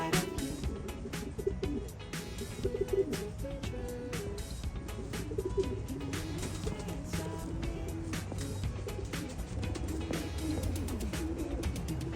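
Pigeons cooing steadily near at hand at a loft, low throaty calls overlapping continuously, with fluttering and rustling mixed in.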